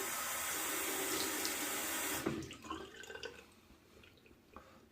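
Tap water runs steadily into a sink during a wet shave, a loud even rush that cuts off abruptly after about two seconds, leaving faint drips and splashes as water is splashed on the face.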